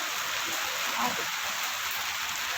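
Light rain falls outside a home, giving a soft, steady patter and hiss that stays even and fairly faint throughout.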